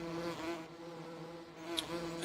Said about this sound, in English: as always, you know, we have our bees. The bees are doing what bees do.